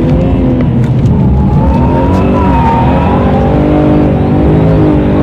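BMW M3 E46 drifting on a circuit, its engine held at a loud, sustained high-revving drone with shifting pitch and faint tyre squeal, very close and continuous throughout.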